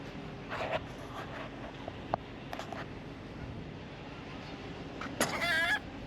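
Geese call from across an open outdoor area, a few scattered faint honks followed by a louder burst of honking near the end, set over low steady background noise.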